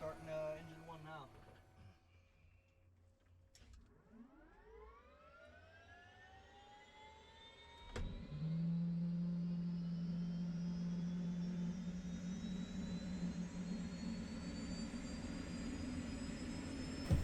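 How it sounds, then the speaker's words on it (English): A video-game helicopter's turbine engine spools up with a rising whine that climbs steadily in pitch, then settles into a loud, sustained roar with a steady high tone. "just listen to that turbo whine on the startup"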